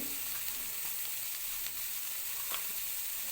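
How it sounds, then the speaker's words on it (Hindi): Washed onions go into a pot of hot oil for biryani and sizzle steadily up close, with a faint stir or two partway through and no talking. "सबसे पहले जाएगा प्याज।"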